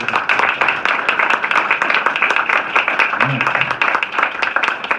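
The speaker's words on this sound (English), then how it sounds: "If you could, everybody just clap for a couple of seconds." Group of people at an American Legion post centennial celebration clapping together on cue, a dense steady patter of many hands close by that runs without a break.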